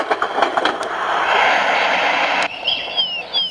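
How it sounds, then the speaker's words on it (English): Steady rolling clatter of train wheels played from a Radio Shack sleep sound machine, a continuous rhythmic rumble that fills most of the span before cutting off, followed by faint high whistling tones. "One of them is train wheels."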